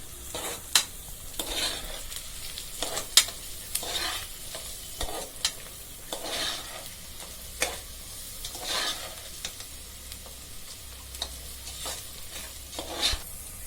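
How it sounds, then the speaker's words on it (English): Onions frying in a pan with a sprinkle of salt give a steady close sizzle, broken by repeated stirring scrapes and clicks over about fourteen seconds with no voices. "I am sprinkling a little salt for the onions to fry faster"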